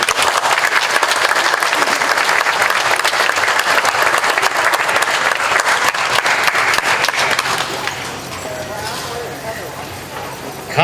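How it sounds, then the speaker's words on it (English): An outdoor festival crowd on a summer day in central Wisconsin claps steadily for a congressman, a dense burst of applause that thins out after about eight seconds as a voice speaks over the tail. "Another round of applause for the Congressman."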